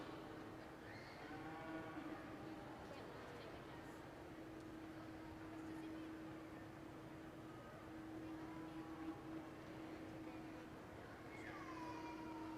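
Cattle low and moo at a county fair livestock show, the calls fairly faint amid a steady crowd hum and a sustained tonal drone, with people talking in the background.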